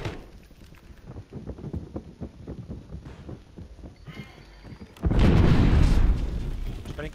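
A grenade blows up in the Warzone video game, a sudden loud, broad boom about five seconds in that roars on to the end, preceded by a run of quieter rhythmic thumping in-game footsteps or movement.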